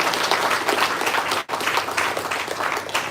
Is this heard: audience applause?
yes